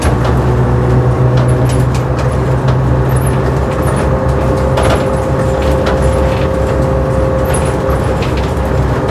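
A 1958 Leyland Atlantean double-decker bus pulls hard at full throttle, its engine a steady, loud drone with a rising whine, heard from inside the cabin with rattles and jingles over the top and no talk.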